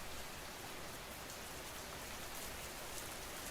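Rain falling in a steady, dense hiss, evenly loud and unbroken throughout the short stretch, with no voices.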